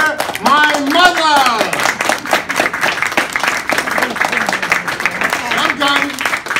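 Audience applause breaks out in a crowd, steady dense clapping running throughout while a voice talks over it and other voices chatter beneath.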